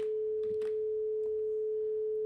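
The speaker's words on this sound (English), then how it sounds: "This is a sine wave." A steady synthesizer sine wave tone holds at a single pitch throughout, pure and unwavering, with faint background clicks and no voices.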